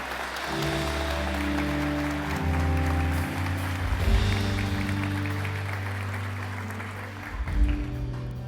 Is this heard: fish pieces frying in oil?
no